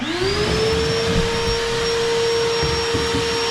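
Cooling fan of a Jackery Explorer 1000 portable power station blowing while it charges, a loud, steady whooshing hum with a rising whine that settles into a constant tone, close and uninterrupted.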